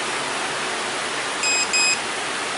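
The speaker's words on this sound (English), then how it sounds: "and you heard that beep beep" A BT6 rechargeable no-bark collar being switched on gives two brief electronic beeps, faint against a steady hiss of background noise.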